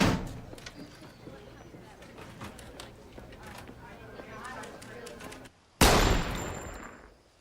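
A handgun is fired in a tense drama scene. Low voices and ambient noise run first, then one sharp, loud shot rings out and decays.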